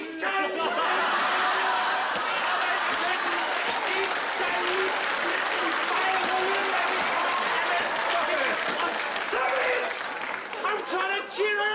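A crowd applauds steadily and loudly throughout, with scattered chuckles and laughter mixed in, tapering slightly near the end.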